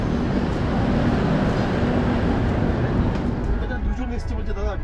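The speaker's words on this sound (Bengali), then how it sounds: "এই মুহূর্তে লালকুয়া এক্সপ্রেস এসে পৌঁছেছে গয়া স্টেশনে" The Howrah-Lalkuan superfast express pulls into Gaya station with a loud, continuous low rumble of wheels and carriages that eases slightly near the end, while voices carry on over it.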